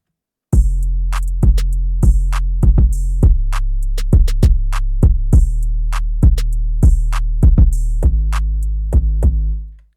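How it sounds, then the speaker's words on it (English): A full trap-style drum beat with deep 808 bass under an emotional piano melody: steady sustained low end punctuated by repeated sharp drum hits in a bouncy rhythm, loud and continuous with no talking. "And then all together the drums sound like this."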